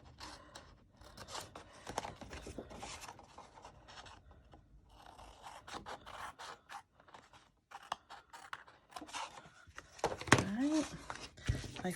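Scissors trim excess paper from a magazine while a Christmas journal is made, giving a quiet run of crisp snips and rustling paper handling, with faint talk in places.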